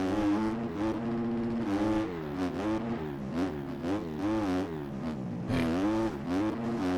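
A 2023 KTM 250 motocross bike engine in MX Bikes revving up and down through the gears, a loud close buzzing whine rising and falling in repeated surges with brief dips between throttle blips.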